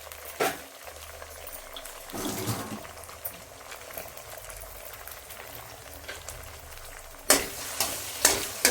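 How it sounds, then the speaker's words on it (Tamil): Egg frying for egg fried rice on a gas stove turned to low heat: a steady sizzle with scraping stirs near the start, around the middle and in a louder cluster toward the end, no voices. "முட்டை நல்லா பொரிஞ்சிடுச்சு"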